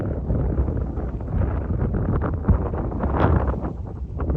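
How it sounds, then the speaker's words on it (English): Wind blusters across an open farm field, a loud, rumbling buffet on the microphone that swells and eases without a break for several seconds. "There's a right breeze here though."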